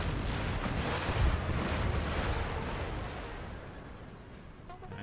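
Artillery cannon fire in Empire Total War, a dense continuous rumble of distant booms blending into one broad roar, steady and loud throughout with no talk.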